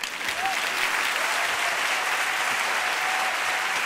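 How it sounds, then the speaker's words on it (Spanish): Audience applause at a live science talk event, sustained steady clapping from a crowd throughout with no voices over it. "tenéis 7 segundos para aplaudirme"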